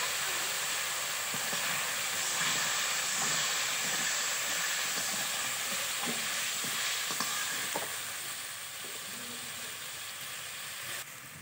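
Masala for koi fish curry hissing and sizzling in hot oil as water goes in, a broad steady steam hiss that eases toward the end, with faint stirring knocks and no speech.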